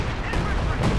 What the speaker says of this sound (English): Spent some munitions on something. Oh, the artillery.